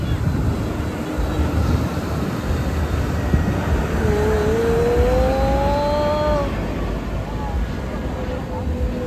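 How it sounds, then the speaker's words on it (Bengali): An airplane passes over a beach, a low broad roar under steady surf and wind with a rising whine drifting across the sky; a voice talks faintly. "এবার দেখো আবার প্লেন যাচ্ছে।"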